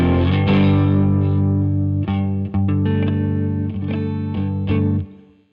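An electric guitar rings out sustained, layered chords through a Keeley Caverns V2 reverb and delay pedal, loud and lush with washes of trailing echoes blending over each new strum before fading away.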